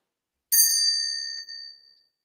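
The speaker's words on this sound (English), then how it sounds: "we have our ritual bell, and this is to indicate that we have started the ritual" A ritual bell struck once, giving a bright, clear ding whose metallic ring hangs and slowly decays for about a second and a half, close and alone.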